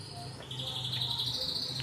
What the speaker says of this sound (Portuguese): Esse é o grilo.